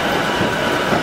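Commuter train pulling into Shinjuku station, a loud continuous rumble of rolling wheels and car noise with faint clickety-clack, close and steady throughout.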